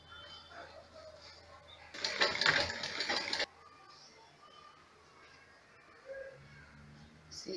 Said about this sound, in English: See, I've finished the sewing.